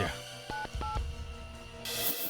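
Short electronic telephone dialing tones, two distinct beeps in quick succession over quiet room tone, followed by a brief burst of hiss.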